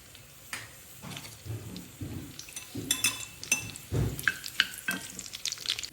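Green chillies and onion tossed into hot oil for a sambar masala, with soft crackling and sizzling broken by sharp clinks and scrapes of a utensil against the pan, close by and moderately loud, no voices.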